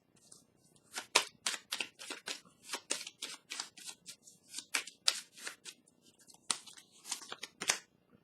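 Tarot cards being shuffled by hand in repeated crisp riffling bursts, close and fairly quiet, with brief pauses between shuffles and no talking.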